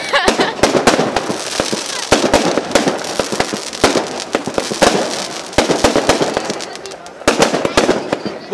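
Fireworks bursting at a funfair, a loud, dense barrage of sharp bangs and crackles firing in rapid irregular succession throughout, with no let-up between blasts.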